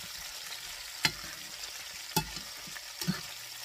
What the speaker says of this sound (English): I'm having to do a lot more stir frying